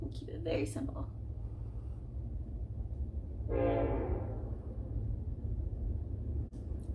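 A train horn sounds briefly in the middle, a rising, harmonic blare somewhat distant, over a constant low rumble, while a person talks.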